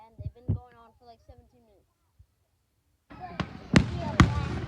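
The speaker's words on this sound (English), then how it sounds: "Destin, Mom, when are the fireworks gonna end?" July 4 fireworks bursting nearby after a stretch of people talking and a quiet pause: several loud, sharp booms arrive in quick succession over a rumbling background.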